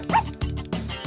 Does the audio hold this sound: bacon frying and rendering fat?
no